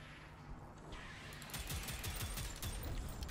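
Rapid bursts of video game gunfire, fairly faint at first and then growing denser and louder after the first second or so, firing in quick repeated volleys with no voices over it.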